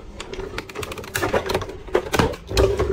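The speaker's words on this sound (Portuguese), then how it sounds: "eu vou cortar com essa faquinha da flor hortênsia" Printed 180 g paper being cut with a small hydrangea flower cutter, giving a run of crisp, close clicks and snips with faint background noise and no talk.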